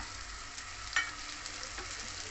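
Ground spice paste hits ginger frying in oil for a vegetarian cabbage dish, giving a steady, soft, hissing sizzle with a brief clink near the start.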